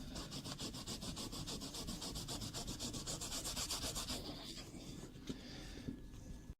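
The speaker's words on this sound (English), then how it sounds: "the scrub fiber is of course ideally suited" A scrub fiber pad is worked back and forth over plastic car door panel trim in quick, rhythmic rubbing strokes, close and alone, slowing into a few scattered scrapes near the end.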